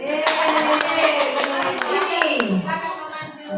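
Rhythmic group hand clapping in a classroom ice-breaking routine led by a teacher, a run of sharp evenly spaced claps over continuous voices that carry on underneath.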